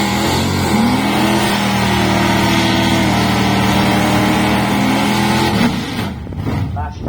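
Drag racing cars, including a Plymouth Savoy, launch from the line at a qualifying round, with loud sustained engine roar and rising revs that fade off near the end. A commentator talks over it.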